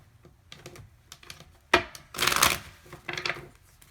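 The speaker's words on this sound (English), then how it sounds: "One more shuffle." Tarot cards being shuffled by hand, several quick papery riffles and slaps in bursts, close and fairly loud, with no talking.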